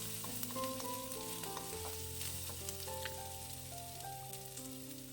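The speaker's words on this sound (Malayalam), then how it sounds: "നന്നായിട്ട് ഇളക്കി കൊടുത്ത് ആ പച്ചമുളകൊക്കെ ഒന്ന് പൊരിഞ്ഞ് വരണം." Green chillies, ginger and dried chillies sautéing in a pan give a steady close sizzle. A spoon stirs and scrapes through it continuously for several seconds, with no talk.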